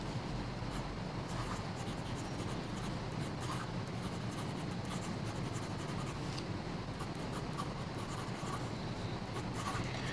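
A new Pelikan M400 fountain pen, dipped in ink rather than filled, scratches faintly across paper in a continuous run of soft nib strokes over a quiet background.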